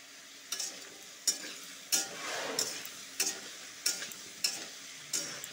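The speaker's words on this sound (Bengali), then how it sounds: "আদা ভাজা হয়ে গেছে, এখন নুন হলুদটা দিয়ে আবার ভাজবো।" Ginger frying in a pan with salt and turmeric, stirred in regular scrapes roughly every half-second to second over a steady close sizzle, no talking.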